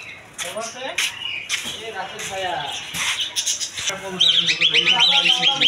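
Caged birds call and squawk at a busy bird and pigeon market in Kashinathpur, Pabna, with a cluster of high chirps near the end, heard beneath near, continuous talk and crowd noise.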